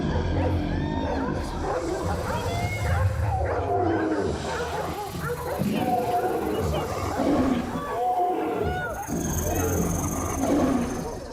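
Dog barking and yelping on stage during a live concert at the Olympia in Paris, scattered yips and whimpers mixed with crowd noise and people talking throughout.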